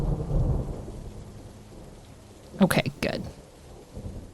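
Rain hisses steadily while thunder rumbles and cracks in two sharp bursts near the middle, played as an ambient effect during a tabletop game; a person says a couple of words.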